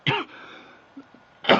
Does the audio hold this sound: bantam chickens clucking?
no